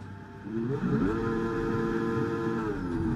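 An F1 car in the video game F1 23 accelerates hard from a start, its engine surging up in pitch and holding a high, steady whine, close and moderately loud.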